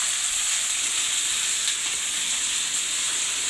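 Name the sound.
cabbage frying in a pan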